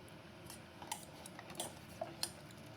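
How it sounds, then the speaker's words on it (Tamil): A utensil clinks and scrapes against a pot in a few faint, separate taps while spices are stirred into mutton leg soup, with quiet room tone between strikes. "நம்ம சேர்த்து கலக்கி விட்டுருவோமே"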